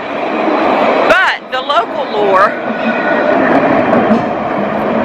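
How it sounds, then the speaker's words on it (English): A Dublin tram rolls past on its rails, a loud, steady rumble and rattle filling the whole stretch with a brief squeal early on, while a person talks over it. "waiting for that tram to go by."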